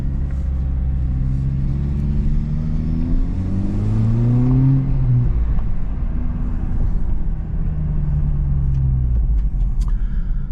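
A Honda Civic Type R FL5 driving on a warm day, its engine droning steadily from inside the car, rising in pitch as it accelerates through a gear, then settling into a continuous rumble.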